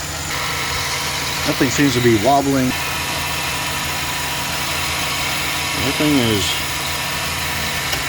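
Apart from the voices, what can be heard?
2009 Chevy Silverado truck engine idling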